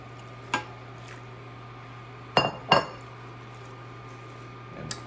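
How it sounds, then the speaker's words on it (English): Utensils clink against a pot as hot pasta goes into a butter Alfredo sauce: three sharp metallic or glassy knocks, close and fairly soft, over a quiet background hum. "And now we'll put our pasta in that was hot."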